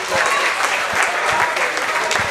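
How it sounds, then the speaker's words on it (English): A crowd applauds and cheers a submission attempt at a blue belt grappling team duel, a dense, loud, continuous wash of clapping close by, with a voice talking over it. "And the crowd is loving it."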